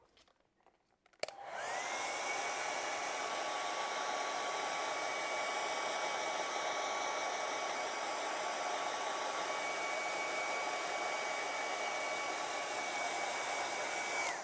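A hair dryer blows steadily on acrylic paint, switching on after about a second of quiet and then holding a loud, even whoosh with a constant motor whine, no voices over it.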